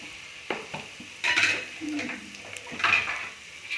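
Tomato rasam with turmeric and salt is mixed in a pot, with scraping spoon strokes and metallic clinks against the pot over a low sizzle, nearby and fairly loud in bursts.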